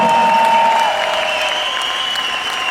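Crowd applauding at the MotoGP Sachsenring event, a dense continuous clapping at close range that eases off slightly after the first second.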